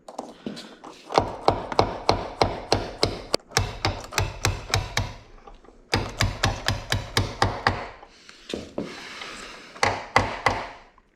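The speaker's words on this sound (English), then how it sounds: "Just a little sanding, a little tapping, and we get it." Metal-on-metal tapping and sanding on a broken door hinge roller pin of a Chevy pickup with a sagging door: close, rapid bursts of sharp taps with short pauses and rubbing scrapes between, no talking.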